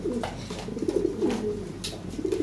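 Lahori, show king, Modena and Frenchie pigeons coo steadily and close by in a loft, a continuous low throaty burble with no one speaking.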